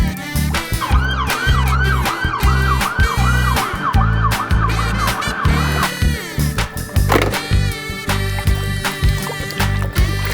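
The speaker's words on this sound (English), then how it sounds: "Wow, ambulance." Toy ambulance siren wailing in a rapid repeating up-down pattern for several seconds over loud toy clatter and background music, then cutting off.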